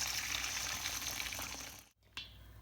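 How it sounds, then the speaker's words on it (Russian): Boiling water pours from a kettle into a bowl, a steady close splashing gush that runs for about two seconds, stops abruptly, then a faint trickle follows. "В миску наливаем кипяток,"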